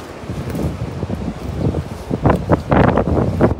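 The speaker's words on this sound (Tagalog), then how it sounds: "Kasi mahangin." Wind buffets the microphone beside a canal during net fishing, a steady low rumble that swells into louder gusty bursts toward the end, close and continuous.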